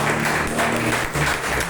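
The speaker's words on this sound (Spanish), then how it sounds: "un fuerte aplauso" Applause from a church congregation at a worship service, a steady wash of clapping filling the room, loud and close for the whole short stretch.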